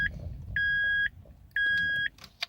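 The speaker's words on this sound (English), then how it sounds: "That's my car beeping because I haven't got my seatbelt on." A car's seatbelt warning chime sounds as three clear, evenly spaced electronic beeps, each about half a second long, over a low idling hum inside the vehicle.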